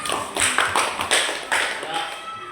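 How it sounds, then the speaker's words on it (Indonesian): A classroom of students claps hands in a few short rhythmic bursts, near and fairly loud, with some voices mixed in. "Oke, tepuk tangan."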